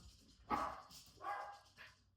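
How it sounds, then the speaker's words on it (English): Two dogs at a home give sharp barks at a driveway alarm, three distinct close barks spaced out over a couple of seconds with short gaps between. "When there's 2 barks like that, it's the driveway alarm, and there are 2 alarms."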